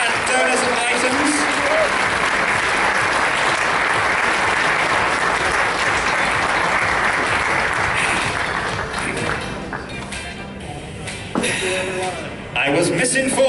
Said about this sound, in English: how about a huge round of applause again for our wonderful Joe